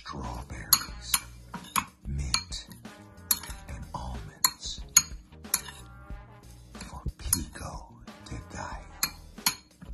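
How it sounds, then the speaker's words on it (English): Strawberries are stirred with a metal utensil in a dish, giving repeated clinks and scrapes in an irregular rhythm, with a voice talking between the sounds. "Stir it up. Stir up the strawberry."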